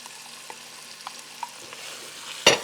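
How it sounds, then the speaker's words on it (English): Green peppers, celery and onion sauté in a pot for red beans and rice, giving a soft, low sizzle with faint periodic stirring ticks and a sharp louder clack near the end. "So I'm going to dump in my green peppers, my celery, and my onion."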